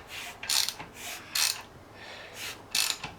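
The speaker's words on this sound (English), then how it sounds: "That's the sound of new piston rings" New piston rings sliding against fresh cylinder walls in a 2009 Ford Flex 3.5 Duratec engine during a rebuild, giving rhythmic scraping, ratcheting strokes repeated about every second, close and fairly quiet.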